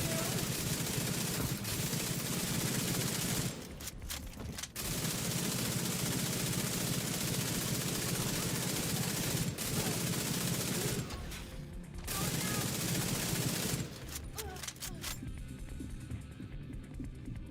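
Sustained automatic gunfire in The Division 2 runs loud and continuous with a few brief gaps, while voices talk over the shooting.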